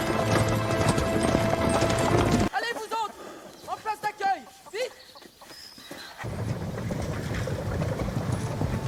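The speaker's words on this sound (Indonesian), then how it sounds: "Tapi ternyata kereta kuda tersebut hanya lewat." Steady clip-clop of hooves with rumbling wheels passes close by, under music and voices, then fades as the sound cuts away.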